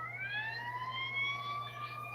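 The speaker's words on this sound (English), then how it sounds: "Oh, here's some sirens." Emergency vehicle sirens wail continuously with rising tones, moderately distant over a steady low hum in a rural setting, with no talk over them.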